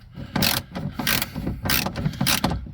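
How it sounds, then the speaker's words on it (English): A swivel head ratchet clicks while turning nuts on a BMW 335i window regulator, in four short bursts of close, crisp ratcheting separated by brief pauses. "this is why I like swivel head ratchets. You use them like a speed ratchet, or speed handle."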